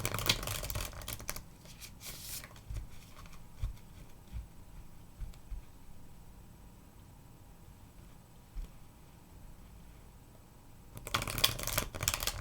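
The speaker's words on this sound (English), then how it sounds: "I'll go ahead and start shuffling" Tarot cards are shuffled by hand in quiet bursts of soft riffling and sliding, close to the microphone. Louder handling noises come at the start and the end.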